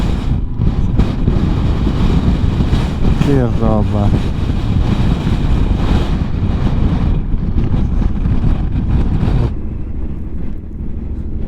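Strong, steady Patagonian wind roars and buffets the microphone without letup beside a petrol station, with a brief voice speaking partway through.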